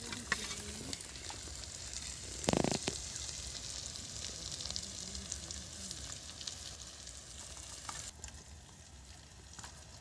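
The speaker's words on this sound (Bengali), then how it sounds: "এইটা আস্তে আস্তে 2 মিনিট ভাজা হোক" Potatoes fry slowly in a pan, a close continuous sizzle with crackling spatter and one brief louder burst of stirring early on, then an even hiss with no one talking.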